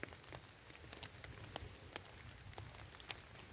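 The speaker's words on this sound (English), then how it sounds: "Don't mind listening to the rain" Rain falls on a tent in the woods on a cold, wet morning, a faint, steady patter with scattered heavier drops ticking close by and no voices.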